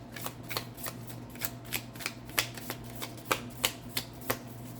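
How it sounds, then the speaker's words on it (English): Tarot cards are shuffled in a quiet room: a string of a dozen or so crisp riffling snaps in a loose, uneven rhythm, close and fairly soft, with no talking. "One more shuffle."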